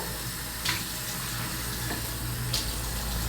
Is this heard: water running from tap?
yes